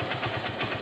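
A motorcycle engine idles steadily at about 1200 RPM with a faint ignition fault, giving an even, throbbing low pulse that stays close and moderately loud for the whole moment, with no voices.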